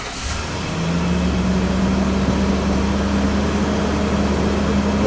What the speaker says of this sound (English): let's put our foot on the brake and start it.